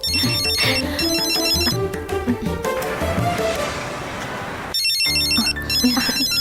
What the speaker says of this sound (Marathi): अरुणचा फोन आहे.